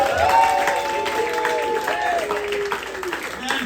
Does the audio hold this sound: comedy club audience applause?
yes